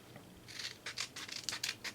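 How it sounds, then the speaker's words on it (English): Scissors snip through paper edges in a quick series of crisp, close cuts, with short pauses between the snips. "where did I put my scissors? Here they are. Cut the edges like this."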